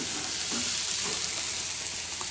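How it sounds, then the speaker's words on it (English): Racks of pork spare ribs laid bone side down on a flaming grill, giving a dense, steady sizzle with faint crackles, close and even throughout. "place the racks bone side down first onto the grill"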